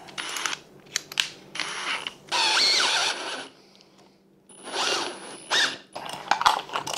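An electric drill bores a 7/8-inch hole straight through a piece for a DIY road shower build, running in several short and longer whining bursts with brief pauses between them, close and fairly loud.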